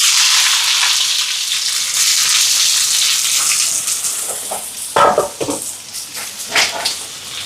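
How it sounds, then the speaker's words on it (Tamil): Spring onions, onion, mustard seeds and cumin fry in hot oil with a loud, steady sizzling hiss that gradually settles, then crackles in short bursts as the pan is stirred. "இதில் எண்ணெய் சூடாயிட்டு வெங்காயத்தாள் வறுக்க போகிறேன்."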